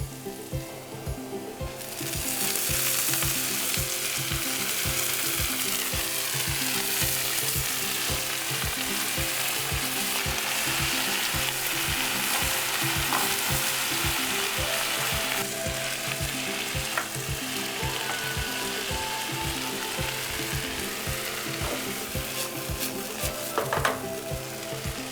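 Loud, steady sizzling of onions frying in a pan, a dense crackling hiss that starts after a moment and continues without a break, with no talking.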